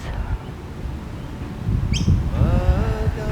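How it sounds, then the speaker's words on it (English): Birds calling outdoors among trees, a brief high chirp and a short warbling phrase over low wind and rumbling background noise, faint and somewhat distant. "listening to the birds."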